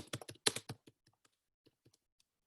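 A short run of computer keyboard typing, a quick flurry of close, crisp keystrokes that thins into a few sparse, fainter taps.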